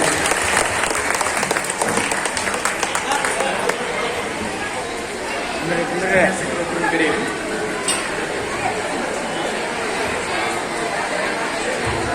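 A crowd at a Sri Guru Madivala Machideva Jayanti celebration in Koppal claps loudly and steadily to welcome a guru onto the stage, sustained applause mixed with chatter and voices throughout.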